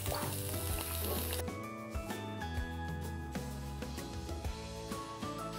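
Shrimp and onion sizzle in olive oil in a frying pan, a loud continuous hiss that cuts off abruptly and leaves quieter crackling sputters over a low hum.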